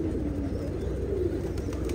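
Pigeons on a balcony give soft, low cooing, faint and continuous against a steady background hum, with no talking.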